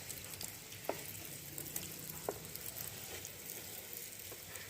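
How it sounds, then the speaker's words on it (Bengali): Potato-stuffed bread sandwich pakoras fry crisply in hot oil, a steady close sizzle with scattered sharp pops and crackles, no voices. "এই রকম পদ্ধতিতে এবার সবগুলো ব্রেড পকোড়া আমি ফ্রাই করে নেবো"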